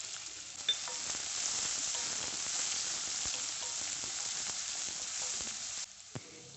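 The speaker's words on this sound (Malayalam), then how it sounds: "അതിനകത്തേക്ക് ഒരു 5 അല്ലി വെളുത്തുള്ളി ചെറുതായിട്ട് അരിഞ്ഞത്. വെളുത്തുള്ളി ഒന്ന് നന്നായിട്ടൊന്ന് മൂത്ത് വരണം." Chopped garlic fries in hot sunflower oil, a steady close-up sizzle that crackles evenly throughout, with a few sharp pops and a brief dip near the end, and no voices.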